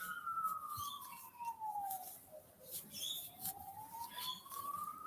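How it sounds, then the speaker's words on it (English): A police car siren wails a few streets away, its tone sliding slowly down then back up, faint and distant, with birds chirping over the top. "Probably police car by the sounds of the siren."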